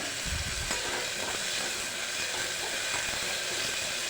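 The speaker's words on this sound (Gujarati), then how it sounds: "બટેટાને આપણે સારી રીતે સોતે કરી લેવાના છે" Potatoes sautéing in hot oil alongside green chillies for fasting-style moraiya khichdi, a steady close sizzle and frying hiss with faint stirring scrapes running throughout.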